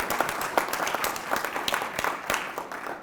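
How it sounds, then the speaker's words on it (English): An audience at a Gettysburg speaking event applauds a guest speaker who has just been introduced, a steady wash of clapping with sharper individual claps standing out, fairly close and full, with no voices over it. "Please give him another round of applause."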